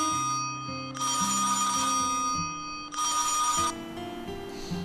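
A telephone rings as a call is placed, with two bursts of bright electronic trilling separated by a pause, layered over soft background music.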